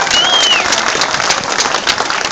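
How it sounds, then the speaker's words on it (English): A crowd at an East Perth Football Club premiership reunion applauds player Brent Cowell: loud, dense, continuous clapping filling a short burst, close and with no talk. "Big round of applause for Brent Cowell"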